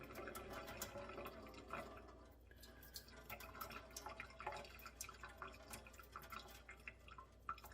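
Rinse water drains off a pot of rice in soft trickles and drips, close by and quiet, continuing unevenly throughout with no talking.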